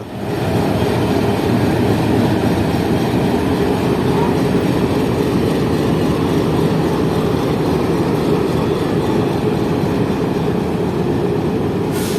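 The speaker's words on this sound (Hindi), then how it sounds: "मुझे दिखा एक HVU लोकोमोटिव, जो कि बेचारा शंटिंग करने में मसरूफ था और कुछ पैसेंजर कोचेस को आगे पीछे कर रहा था" An HVU locomotive shunts passenger coaches at Multan Cantt station, giving a steady, loud rail rumble with a continuous rolling roar throughout and no clear voices.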